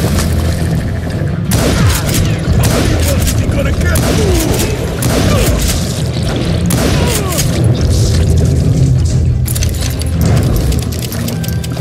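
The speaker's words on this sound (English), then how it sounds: "a fusillade of bullets come raining down from on high" Dense gunfire fusillade from the Call of Juarez: Gunslinger video game, a loud, continuous barrage of overlapping shots and booming impacts with game music and effects underneath, sustained for the whole stretch.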